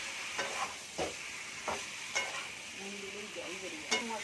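Chicken with onion, garlic and spices frying and being stirred in a pan for biryani, with a steady close sizzle broken by several sharp scraping stirs.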